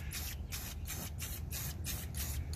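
Short repeated bursts of aerosol spray paint coating metal VW Puma drop spindles black, rhythmic hisses near and steady with brief pauses between passes.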